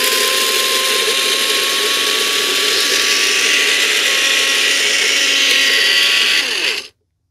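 A Bella personal rocket blender grinds coffee beans with a steady loud motor whine and a rough, gritty roar of beans being ground, running continuously for several seconds before cutting off abruptly.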